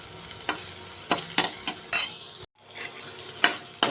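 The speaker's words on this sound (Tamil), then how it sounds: "பச்சை மிளகாயோட பச்சை வாசம் அதோட காரம் குறையிறதுக்கு நல்லா வதக்கி எடுத்துக்கலாங்க." Green chillies sautéing in a pan for a samosa filling, with a low sizzle under repeated sharp scrapes and stirs of a spoon against the pan, spaced irregularly and fairly close.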